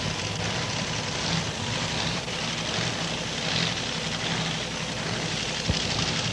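Wheel stander drag racers roar side by side at a racetrack, giving a dense, distant-sounding engine rumble that stays steady and broadband throughout with no speech.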